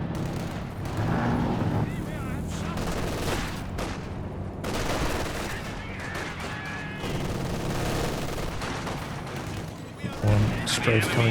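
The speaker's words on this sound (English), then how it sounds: "One strafe coming through." A strafing run in the World War II strategy game Company of Heroes 2 rattles out as rapid gunfire bursts and booming battle noise over several seconds, loud and dense.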